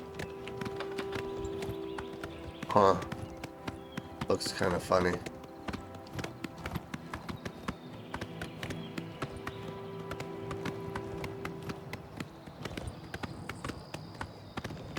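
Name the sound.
horse hooves clip-clopping in the video game Oblivion Remastered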